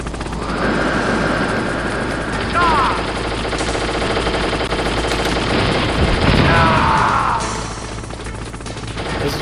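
Sustained loud machine-gun fire and a helicopter's droning rotor fill a Metal Gear Solid rooftop battle, with bursts of impacts and crashes layered over the continuous din.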